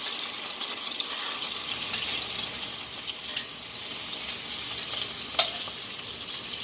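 Small homemade meatballs sizzling in a pan, a steady bright hiss with occasional pops and clicks, close and continuous, no talking.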